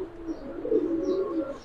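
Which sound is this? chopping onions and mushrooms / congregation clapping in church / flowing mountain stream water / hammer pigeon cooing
hammer pigeon cooing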